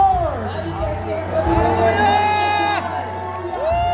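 A large crowd at a revival gathering in Nagaland cheers and shouts loudly and continuously, with whoops rising over a steady roar of voices and a sustained musical tone underneath.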